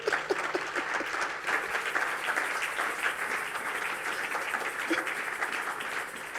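Congregation at a lively French-language church service breaks into steady, dense applause and cheering, a full crowd clapping continuously at close range throughout.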